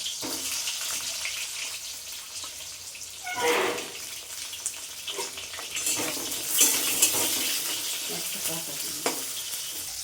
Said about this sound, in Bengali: বেগুনটা ভেজে নেবো আগে।